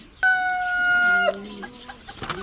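A bird on a poultry farm keeping ring-necked pheasants and chickens gives one loud, close, drawn-out crowing call, followed by softer clucks and rustling.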